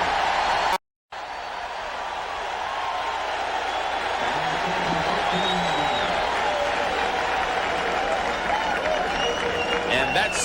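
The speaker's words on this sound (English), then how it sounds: "That's something that hasn't happened too often here in Tampa, getting the crowd to cheer." Stadium crowd in Tampa cheering and applauding at a 1992 Phoenix Cardinals versus Tampa Bay Buccaneers football game, a broad sustained roar swelling after a brief dropout, with a commentator talking over it.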